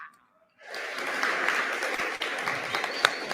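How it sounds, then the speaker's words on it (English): Audience applause breaks out after a brief quiet moment, a dense, steady wash of many hands clapping at moderate volume that carries on to the end. "Give them another applause, ladies and gents"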